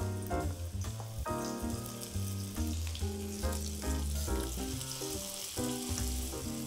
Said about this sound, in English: So we're just going to put in our pork chops.